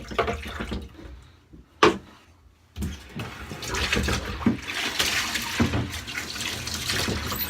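A razor is rinsed under running water at a bathroom sink, a short splash followed by a steady hiss of the tap flowing for several seconds, fairly close.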